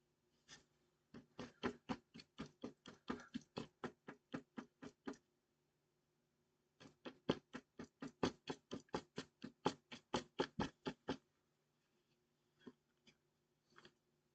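A paintbrush is tapped to spatter watercolour for a rain effect, making two long runs of rapid, evenly spaced light taps, close but faint, followed by a few scattered single taps.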